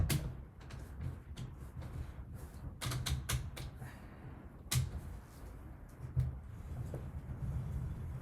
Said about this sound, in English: I am driving the spinning wheel with one foot on a pedal underneath